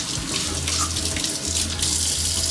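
Yellow carrots scrubbed under a running kitchen tap, with steady splashing water and faint rubbing, close and continuous.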